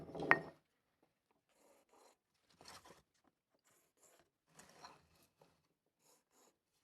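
A wooden marking gauge set at 1.5 inches scribes a line into wood for a bench hook, giving faint, brief scratchy rubbing strokes separated by quiet gaps after a sharp opening knock.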